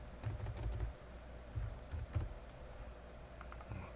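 Computer keyboard typing during a Photoshop editing session, quiet and close, with a few short bursts of keystrokes separated by pauses and no voices.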